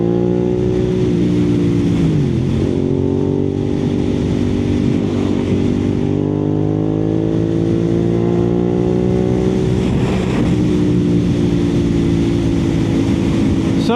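A Suzuki SV650 motorcycle engine drones steadily while riding, its pitch rising and falling with gear changes, loud and continuous beneath wind noise.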